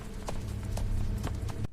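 A horse galloping at full speed, its hooves striking in a quick, regular clip-clop rhythm, close and fairly loud, with no voices.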